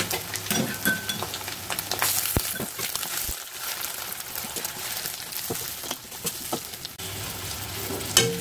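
Onion paste fries with fried shrimp in a pan, giving a soft, steady sizzle broken by occasional stirring clinks and scrapes, close but fairly quiet.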